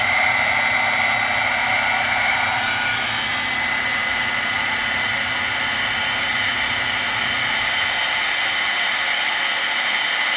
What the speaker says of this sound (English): I'm gonna get my heat gun here and watch the magic happen